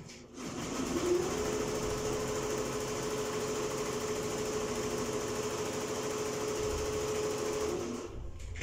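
A double-head embroidery machine stitching a caftan in Tetouan runs with a loud, steady, rapid motor whir and needle clatter, holding a constant pitch for several seconds before winding down.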